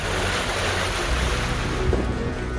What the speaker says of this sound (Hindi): तेज हवाएं चल रही हैं, समंदर में ऊंची ऊंची लहरें उठने लगी हैं